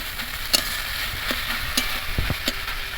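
A spatula scrapes and taps through Bengali mustard-paste lotte fish curry in a pan, making sharp, irregular clicks over a soft, steady sizzle.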